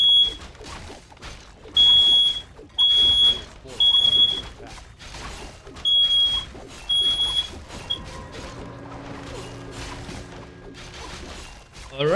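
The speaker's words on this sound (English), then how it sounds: "that was my fire alarm" A smoke alarm chirps in a series of short, loud, high-pitched beeps in an irregular rhythm, heard indoors and alone at first, then giving way to a low hum with some talk.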